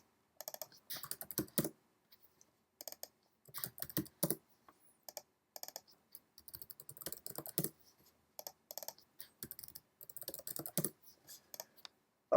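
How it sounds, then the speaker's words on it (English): Keystrokes and mouse clicks on a computer keyboard come in short irregular bursts with brief pauses, close and fairly quiet, while mesh regions are renamed in 3D creature-rigging software. "click on one of the mesh regions and double-click and type in a new name"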